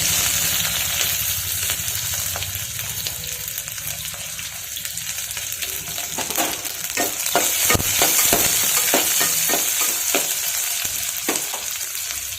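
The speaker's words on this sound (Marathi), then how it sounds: "याच्यामध्ये कांदा टाकून घेऊयात अगोदर।" Onion, mustard seeds and cumin fry in hot oil, giving a steady, close sizzle with scattered stirring clicks and scrapes throughout.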